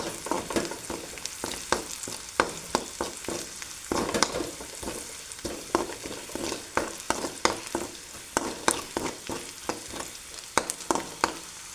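Chopped chilies, garlic and ginger sauté in hot coconut oil for a Chettinad chicken curry, a close crackling sizzle punctuated by frequent rhythmic knocks and scrapes of a spoon stirring the pan, with no voices.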